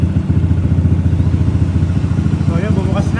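A motorbike engine idles with a steady, close throbbing rumble while its radiator auto fan switches on, a faint whirring rising toward the end.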